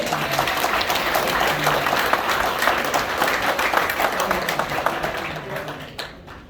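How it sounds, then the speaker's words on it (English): A Memorial Day crowd at a VFW post gives a sustained round of applause, loud and dense from the start, then thinning and fading out near the end, with a few voices mixed in. "ladies and gentlemen, let's have a round of applause for these folks"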